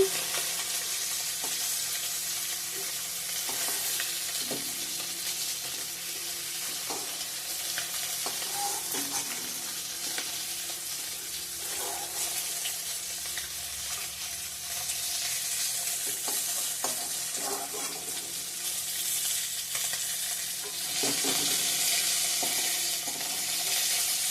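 Food fries in a hot pan and is stirred, giving a steady, close sizzle throughout with scattered scraping clicks of the spatula and no talk.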